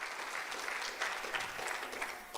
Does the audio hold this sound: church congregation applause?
yes